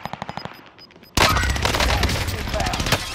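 Enemy gunfire in a military shooter video game: a short string of evenly spaced single shots, then a sudden loud burst of sustained automatic fire that stays dense and heavy to the end, mixed with game sound.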